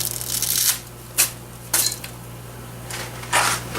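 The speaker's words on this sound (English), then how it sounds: "now I'm going to put in my pasta, my thin spaghetti. Break it into about 2 inches" Thin dry spaghetti snapped into short lengths over a pot of boiling water, several sharp crisp cracks in quick bursts spaced apart against a low steady hum.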